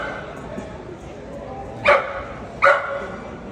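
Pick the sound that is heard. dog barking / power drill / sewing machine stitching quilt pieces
dog barking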